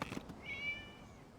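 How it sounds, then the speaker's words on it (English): A cat meows once in the video game Genshin Impact, a short, fairly faint tonal call following a few soft clicks. "A cat. It was just a cat."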